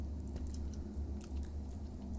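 A grub squelches and smacks as it chews in the Bear Simulator game, a soft, steady wet munching at low volume with no talking over it.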